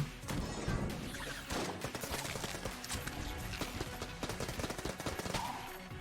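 Rapid bursts from a machine pistol in the bullet-hell dungeon game Enter the Gungeon, a busy clattering stream of quick shots over constant game sounds, fairly quiet overall.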